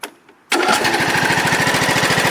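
A John Deere LA115 riding lawn mower engine fires up after a brief crank and settles into a loud, steady, rapidly pulsing idle close by.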